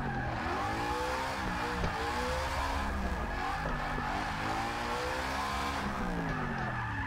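A car drifting in Forza 6, tires squealing continuously as the engine revs and wavers through the slide, with a sustained loud skid filling the whole stretch.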